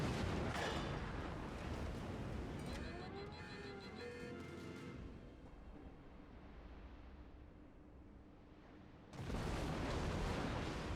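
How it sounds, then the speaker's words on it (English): Naval guns firing and shells exploding in World of Warships gameplay with the Tirpitz battleship, heavy booming blasts with rumbling decay, a quieter stretch in the middle, then another loud roar of fire at the end. "So now I'm shooting at the Miyoko as he's shooting at me"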